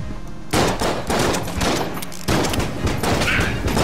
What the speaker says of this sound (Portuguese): Nossa, que explosão!